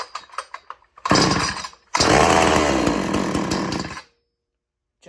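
An old-school chainsaw being pull-started: a few short tugs on the pull cord, then the engine fires and runs loud and raspy for about three seconds, briefly catches again and cuts out to silence.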